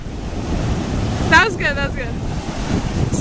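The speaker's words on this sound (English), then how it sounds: "Whoa, the waves." Ocean surf at a beach: a steady wash of waves and wind noise fills the whole stretch, with a short, high excited voice exclaiming briefly partway through.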